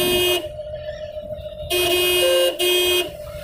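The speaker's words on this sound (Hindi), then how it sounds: "तो सामने वाले को हॉर्न सुनाना अपना कि हम आ रहे हैं।" A car horn blares in three loud, steady blasts while the learner car overtakes a bike and another car on the road, with an engine hum beneath and no talk.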